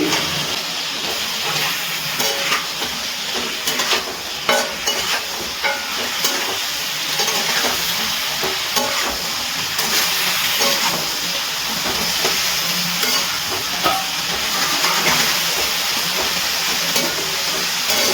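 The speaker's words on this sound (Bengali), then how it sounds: "এবার খুব ভালো করে একটুখানি নাড়াচাড়া করে মিশিয়ে দিচ্ছি" Chicken with salt is stirred and fried in a kadai, a continuous close sizzle and hiss with repeated scraping taps of the spoon against the pan throughout.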